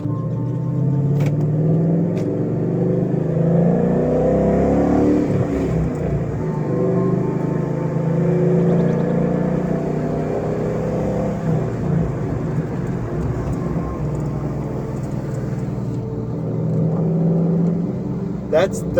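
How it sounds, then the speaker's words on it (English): A 2012 Mustang GT fitted with a Flowmaster Outlaw exhaust drives at about 35 mph, its deep, steady exhaust rumble swelling as it accelerates, with people talking over it throughout. "That's 35 miles an hour that you're listening to"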